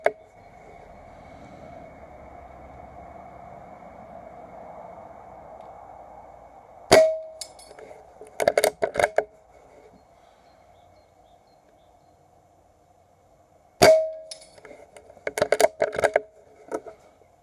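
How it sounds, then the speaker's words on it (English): A Brocock Compatto air rifle fires at spinner targets 50 metres downrange, each sharp shot followed by quick metallic clangs and rattles as the spinner turns, two separate volleys over a quiet, faint hum. "the Compatto can reach out and touch targets further down range. Spinners at 50 metres are possible all day long"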